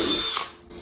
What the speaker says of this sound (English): So let's drill